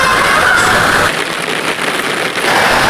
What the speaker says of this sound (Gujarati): ખૂબ વરસાદ પડી રહ્યો છે